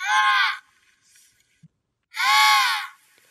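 Two loud, harsh, harmonic calls from an emperor penguin giving its alarm cry, each about half a second long and close by, separated by near silence with a faint softer call between them.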